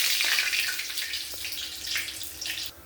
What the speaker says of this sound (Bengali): তেল গরম হয়ে গিয়েছে। এখন আমি শুকনো লঙ্কা দিব, শুকনো লঙ্কা